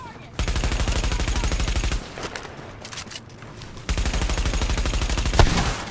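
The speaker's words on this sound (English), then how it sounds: "That one shot did a ridiculous amount of damage" Two sustained bursts of rapid automatic gunfire from Mirror's Edge Catalyst, loud and close, separated by a short quieter gap of scattered noise, with a voice heard faintly in the game.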